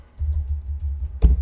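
Typing on a computer keyboard: soft, scattered key clicks over a low background hum, then one sharper, louder clack near the end. No voices.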